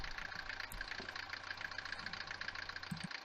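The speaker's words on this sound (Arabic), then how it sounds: "عنده مشكلة في محرك المرسيدس" A Mercedes W124 diesel engine runs steadily at close range, with a rough, loud mechanical clatter and a constant low hum lasting throughout, and no voices.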